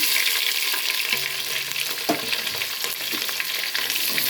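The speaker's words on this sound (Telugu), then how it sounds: "ఇది కొంచెం వేగిన తర్వాత ఉల్లిపాయ ముక్కలు, పచ్చిమిరపకాయలు వేసేసుకుందాం." Onion pieces and green chillies fry in a pan for rice, giving a steady, close sizzle with occasional stirring scrapes and clinks; no one speaks.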